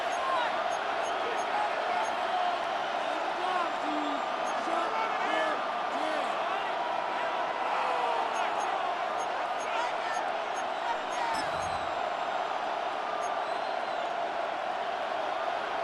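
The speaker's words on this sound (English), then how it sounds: "The crowd making their presence felt." A dense, steady roar from a stadium crowd in an EA Sports NFL video game, a continuous loud wash of noise with faint scattered shouts rising out of it.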